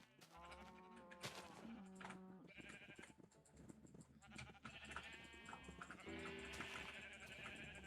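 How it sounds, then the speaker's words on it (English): Sheep bleat repeatedly over a dense, busy backdrop of music-like tones, the calls overlapping and fairly loud throughout as a large flock is passed. "See if I can get through all these sheep."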